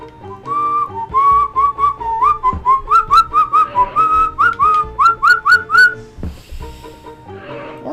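A bright whistled melody from the video game Mario is Missing, a series of clear sustained and bouncing notes over soft game music, loud and upfront with no talking.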